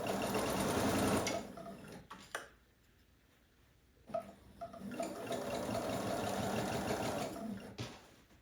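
A sewing machine stitches a quilt seam in two close, steady bursts of rapid mechanical whirring, separated by a pause of a couple of seconds.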